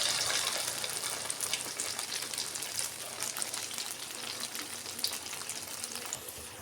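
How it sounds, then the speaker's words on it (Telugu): Idli batter bondas deep frying in hot oil, a steady close bubbling sizzle that runs continuously and eases slightly toward the end, with no talking. "మంచిగా గోల్డెన్ బ్రౌన్ వచ్చే వరకు ఇట్లా వేయించుకోవాలి"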